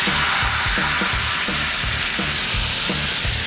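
Red peppers sear in a hot cast iron pan that was heated in a wood-burning oven, giving a steady loud sizzle with rhythmic low clanks and scrapes running throughout.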